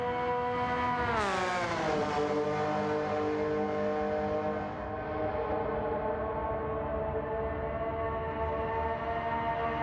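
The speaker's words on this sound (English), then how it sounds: "That is a good sounding engine. Inline 6 with carburetors." An inline six-cylinder engine with carburetors drones in a racing game. The pitch rises sharply, then settles into a loud, steady, rich harmonic tone held at speed for several seconds with no talk.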